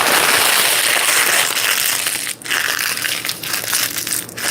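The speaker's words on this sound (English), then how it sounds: "So just crumple it into the ball." Paper being crumpled into a ball up close, a dense, continuous crinkling and crushing with a few sharper crackles, loud and alone.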